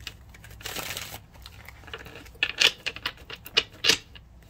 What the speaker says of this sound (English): So let me go ahead and shuffle really quick.